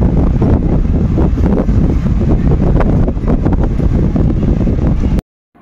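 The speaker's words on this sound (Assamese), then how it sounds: "ইমানেই বেছি বতাহ দি থাকে বাপৰে গোৱাত" Loud, constant wind in Goa buffeting the microphone, a dense low rumble with gusty surges that cuts off abruptly at the end, with light rain falling.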